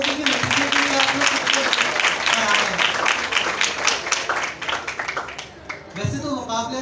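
An audience gives sustained applause after a performance by blind students, with dense clapping that swells and thins over several seconds, and a voice speaking over it near the end.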